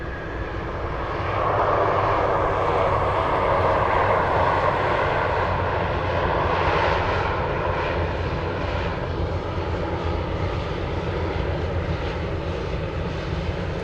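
A Sun Country airliner on approach to land at Anchorage airport, a steady, loud jet engine roar and rushing wind that swells slightly and holds throughout with no voices.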